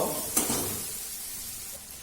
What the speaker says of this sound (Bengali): আমি মশলাটাকে ভালো করে একটু কষিয়ে নেব